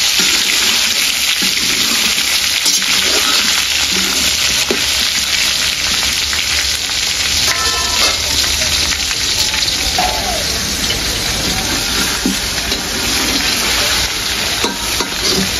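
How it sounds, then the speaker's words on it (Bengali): Hog plums fry in hot oil with a loud, continuous sizzle and crackle, along with intermittent stirring scrapes close by. "আমরাগুলো তেলের সাথে একটু সুন্দর করে ভেজে নেব।"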